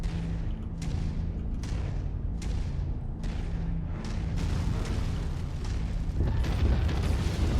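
Heavy AC/20 autocannon shots and explosions in MechWarrior 5, a series of loud booming blasts spaced about a second apart with rumbling decays, continuing into denser detonations near the end.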